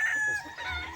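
Sweater-line gamefowl rooster crowing at a game farm, one brief close crow with a hoarse, strained tone and no voices.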